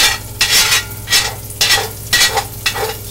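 Sausage bits for country gravy fry and get stirred in a pan: loud sizzling bursts rise and fall in regular sweeps about every half second, up close, with a low hum underneath and nobody talking.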